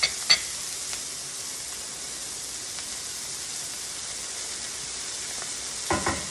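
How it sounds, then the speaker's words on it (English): Onions and mushrooms sizzle in a pan with a steady, soft crackling hiss, joined by a few brief clinks of stirring near the beginning and end. "You can see that the onions and mushrooms are cooking well."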